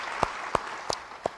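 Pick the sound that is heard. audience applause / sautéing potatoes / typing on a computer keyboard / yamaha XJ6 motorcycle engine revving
audience applause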